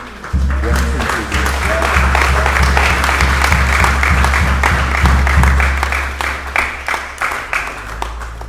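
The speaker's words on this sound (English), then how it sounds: "Give him again a nice round of applause" Mourners at a funeral service give a long, full round of applause, dense and steady for several seconds before thinning into scattered claps, with a low hum beneath.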